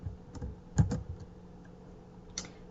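Typing on a computer keyboard: a few scattered, fairly quiet key clicks with one sharper cluster of presses, close and alone with no talk.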